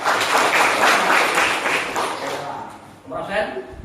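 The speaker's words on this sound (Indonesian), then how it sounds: "Tepuk tangan." Classroom students clapping in a school lesson, a loud broad burst of hands that tapers off, followed by a voice speaking near the end.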